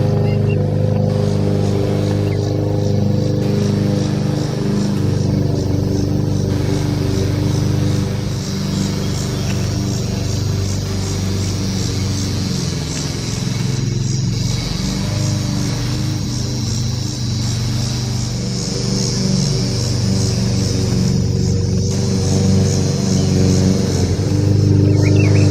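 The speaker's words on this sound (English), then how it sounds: "So I know you're listening to my neighbor mow his lawn today." A neighbour's lawn mower runs steadily next door, its engine a continuous, fairly loud drone that holds without a break.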